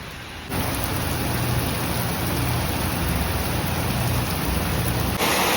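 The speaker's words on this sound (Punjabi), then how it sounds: "ਹੁਣ ਪੂਰੀ ਸਪੀਡ ਨਾਲ ਮੀਂਹ ਪੈਣ ਲੱਗਿਆ" Heavy rain pours down in a dense, steady roar, starting abruptly after a quieter moment and continuing without letup.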